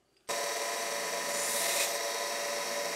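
A pizza cutter being sharpened on a 220 grit belt gives a sudden, steady abrasive grinding hiss that starts abruptly and holds loud and constant.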